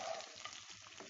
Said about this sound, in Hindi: गोश्त तो हमारा अच्छे से फ्राई हो चुका है